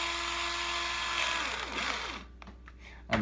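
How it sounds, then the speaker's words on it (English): A cordless power drill whirs briefly while backing screws out of a guitar pickguard, a high buzzing spin that winds down into a few light clicks and a final knock. "Drill always makes things easier."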